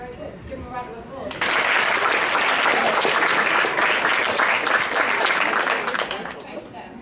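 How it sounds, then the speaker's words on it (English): A group breaks into applause indoors, starting abruptly after some quiet talk, then steady, fairly close clapping that holds for several seconds before tapering off, with voices mixed in. "Give them a round of applause."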